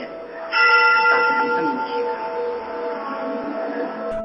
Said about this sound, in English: I also hear temple bells, so this could have taken place during a ceremony